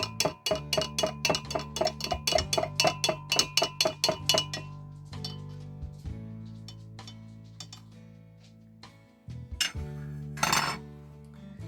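A spoon stirs a vitamin C solution in a container during gold recovery from plated pins and gold fingers, tapping the sides in a fast, steady run of sharp clinks that stops partway, leaving quieter scraping and a brief rattle near the end.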